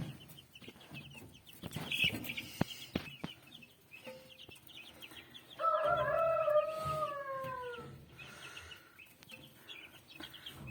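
Scattered chicken clucks and chirps, then a louder stretch of drawn-out calls from fowl nearby, over a quiet background.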